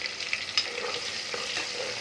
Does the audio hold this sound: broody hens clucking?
no